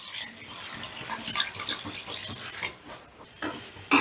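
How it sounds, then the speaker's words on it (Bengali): Water pours from a bowl onto rice and chicken in a pot for chicken pulao, four bowls of water for two of rice. A steady, splashy pour runs close by, ending with a brief clunk. "2 বাটি চাল নিয়েছি ভর্তি ভর্তি, আমি 4 বাটি জল দিয়ে দিচ্ছি।"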